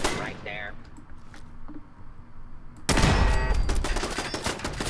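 Gun turret firing in the Fallout 4 video game, a sudden loud burst of rapid automatic gunfire that keeps rattling after a quieter stretch with a voice talking.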